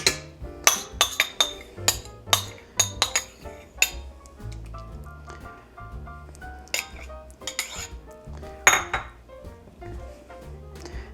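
Spatula scraping the sides of a stand mixer bowl and its paddle while the machine is off, mixing gingerbread bourbon cheesecake base with spices: a run of sharp metallic clinks and scrapes, close and irregular, with no talk.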